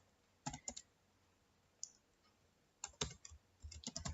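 Someone types on a computer keyboard in short bursts of quick, close clicks, with quiet pauses between the runs of keystrokes.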